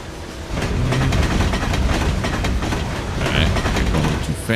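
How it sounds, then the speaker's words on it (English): In the Trainz 2022 rail simulator, a long train rolls past close by, with a continuous loud rumble and a steady clickety-clack of wheels over rail joints. "This is one long train going by."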